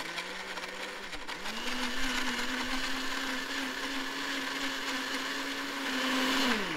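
A small, low-powered blender whirs steadily as it mixes a homemade green spider spray made with hedge apples. The motor's pitch dips briefly a few times before the sustained hum resumes, with no talking over it.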